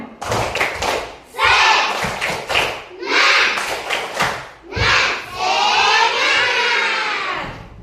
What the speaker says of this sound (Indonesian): Tepuk semangat. 1, 2, 3, ya.